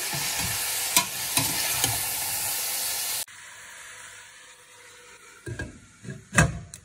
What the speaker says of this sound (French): Je fais un peu mijoter avec nos oignons